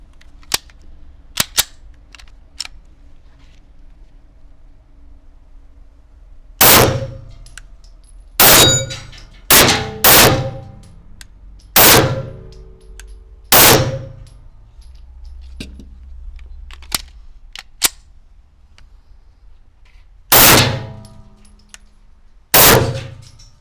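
A Canik TP9SA 9 mm pistol fires at a range, about eight sharp, loud, close shots spaced unevenly with pauses between, each ringing briefly, over quiet background.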